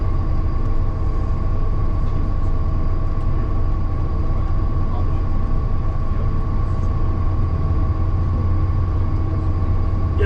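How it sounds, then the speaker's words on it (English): A big auto rack freight train rumbling past at North Platte, Nebraska, a loud, continuous roar with a steady low drone and a sustained tonal hum that holds unbroken for ten seconds, with no talk over it. "That is a big auto rack train."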